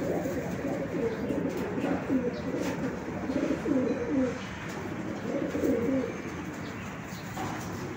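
Racing pigeon cooing in repeated soft, throaty phrases at close range, with faint background rustle and low ambient noise.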